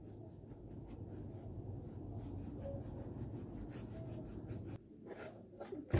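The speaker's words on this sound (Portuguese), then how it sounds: "E aí a gente faz a nossa primeira aplicação acima do tecido." Cement paste is spread over fabric to make a wall vase, a close rhythmic scraping and rubbing that pauses briefly near the end.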